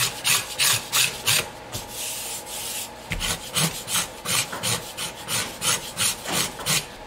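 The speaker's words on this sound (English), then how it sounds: "Doesn't take long to get it down there when you got a good sharp scraper." A sharp hand scraper shaves wood on a custom guitar in steady, rhythmic rasping strokes, each stroke crisp and close, about two per second, with no talking.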